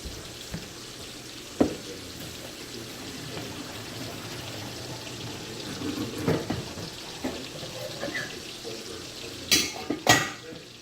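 Cooked gnocchi tipped from a hot pot into a strainer in a home kitchen, with watery pouring and splashing, a few sharp clanks of metal cookware, and a clatter near the end.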